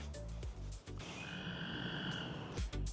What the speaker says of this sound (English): That is a gray tree frog. You can hear right behind me